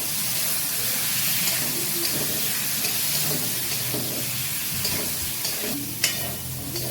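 Spice masala of ground coriander and cumin sizzles and hisses steadily as it is stirred and fried in a pan for a katla fish curry with potato and eggplant, with faint scraping stirs and a sharper crackle near the end.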